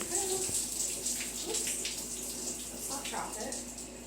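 A shower running steadily in a bathroom while hair is being shampooed, a continuous close hiss of spraying and splashing water with brief splatters, and a voice speaking faintly underneath.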